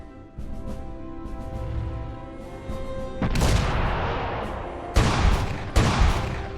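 Gunfire and artillery from the strategy video game Shattered Union, with units attacking anti-aircraft guns: a rumbling start builds into heavy booming volleys, and two sharp blasts stand out near the end, loud and close.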